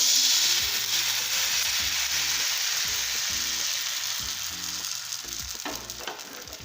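Dosa batter for yellow silk dosa crackling loudly on a hot oiled pan, a dense continuous sizzle that slowly softens as the batter sets, with no voices.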